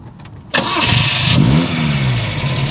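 A 1966 Fiat 1500 Cabriolet is started by push button: after a quiet moment, the starter catches and the engine fires abruptly, then settles into a loud, steady idle with a brief rev, close by.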